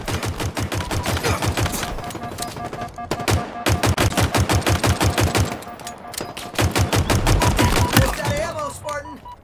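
Rapid bursts of automatic gunfire in a Halo video game match, loud and close in rattling volleys with brief pauses between them.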